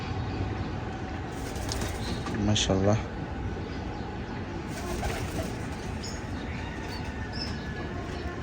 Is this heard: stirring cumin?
no